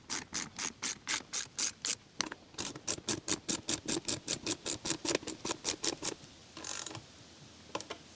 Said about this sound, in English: let's tighten them up.